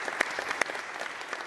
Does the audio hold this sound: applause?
yes